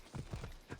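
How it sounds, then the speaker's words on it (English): Slow horse hooves clip-clopping through a residential area in a video game, a short run of about four soft, muffled steps at an even walking pace, faint and alone. "the horse goes so slow when you're in a residential area"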